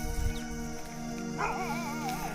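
A dog on a thorny, cactus-covered hillside near a shrine reacts to strangers. A single near whining yelp rises and wavers over a steady background hum, following a few low thumps.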